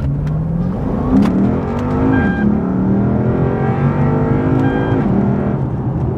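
Naturally aspirated V8 of a Lexus IS F revving hard, a loud, continuous engine roar with rising and falling pitch sweeps as the revs climb, close and steady throughout with no talking.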